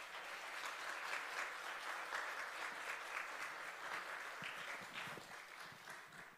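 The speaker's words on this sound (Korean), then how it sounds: "박수로 우리 목사님을 모시도록 하겠습니다" A church congregation breaks into steady, fairly distant applause to welcome the pastor to the pulpit, a continuous clapping wash that fades slightly near the end.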